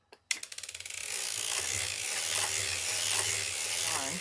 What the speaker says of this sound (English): now you can just crank away